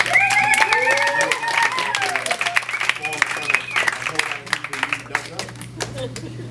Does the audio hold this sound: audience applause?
yes